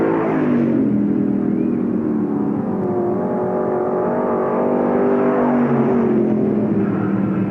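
Street stock cars race in a heat at Knox County Raceway, their engines roaring loudly and continuously as several cars run bumper to bumper, with rising and falling revs blending into a dense, steady drone.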